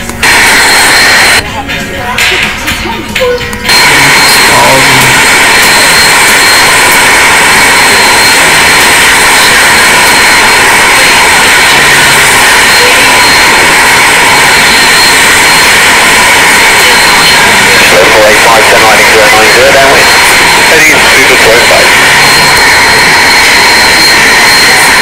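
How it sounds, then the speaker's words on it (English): Airbus A380 jet engines in a flight simulation game roar in a loud, steady broadband drone for the full stretch, with a brief choppier burst near the start and faint shifts in the hum later. "Go flying the Airbus A380."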